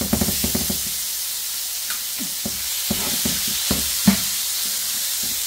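Chicken marinated with chicken seasoning, garlic and thyme fries in a pan, a steady close sizzle broken by scattered clinks and scrapes of stirring, with no talking.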